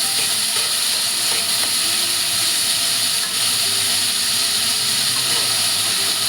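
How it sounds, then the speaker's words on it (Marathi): Onions frying in a pan for a Konkani-style chicken kaleji masala: a steady, broad sizzle and hiss runs evenly throughout, close and fairly loud, with no talk. "कांदा टाकते. कांदा चांगला लाल होऊन दे."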